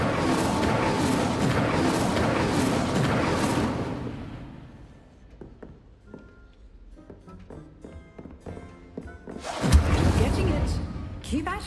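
The Incendio fire spell cast in the video game Hogwarts Legacy: a loud, roaring burst of flame that fades into quiet scattered taps, then a second fiery whoosh flares up near the end.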